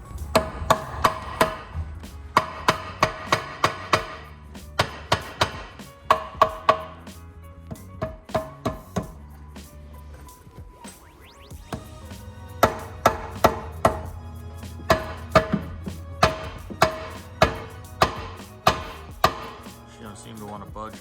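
Wrenching loose oil pan bolts on a turbo diesel-swapped Datsun 240Z: sharp metallic clicks and taps in bursts, separated by quieter stretches, close up.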